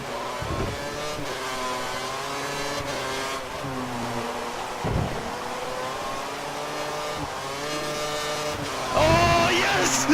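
Formula 1 race car from F1 2013 sliding and drifting on the Singapore street circuit, its high engine whine rising and falling steadily throughout, louder near the end.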